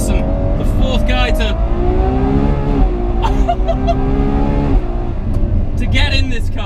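A Ferrari 812 Superfast's engine accelerates with a loud, sustained, rising roar that pulls up through the revs, heard close and continuous with someone talking over it.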